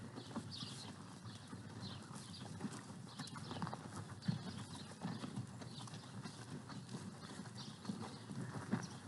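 Steady clip-clopping hooves of several horses walking on soft ground in a ranch arena, continuous and moderately distant, with faint background voices.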